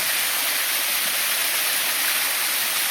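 Byrappa Falls at Kuruvinakoppa, water pouring straight down from the hill after light rain: a loud, dense, unbroken roar of rushing water filling the whole stretch, no voices.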